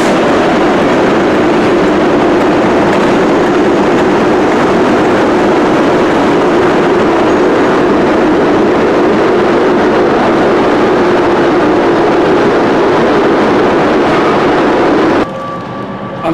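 Trains at Edinburgh Waverley railway station fill the space with a loud, continuous rumbling roar that holds steady for about fifteen seconds before shifting abruptly near the end.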